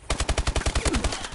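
Rapid automatic machine gun fire in a video game, about a dozen loud, evenly spaced shots in a fast burst, close and dominant with no talk over it.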